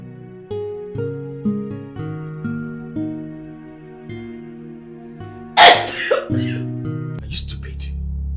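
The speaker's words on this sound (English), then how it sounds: "Why are you sneezing with my food?" A single sharp sneeze bursts out loudly over background music in a dramatized scene involving food, followed shortly by another brief breathy burst.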